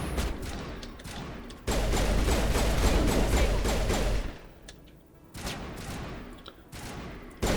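Rapid gunfire bursts in a Mass Effect firefight, dense crackling volleys that pause briefly and resume, loud and close with short gaps between strings of shots.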